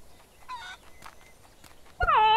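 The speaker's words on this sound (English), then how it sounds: "And I keep hearing that chicken." Chicken clucking in a trashy video game: a short cluck early on, a few soft clicks, then a louder, close squawking cluck near the end.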